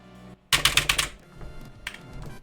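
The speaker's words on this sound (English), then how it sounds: "Loud keyboard." Rapid burst of loud computer keyboard keystrokes, a dense run of clacks close to the mic, followed by scattered quieter taps against a low background hum.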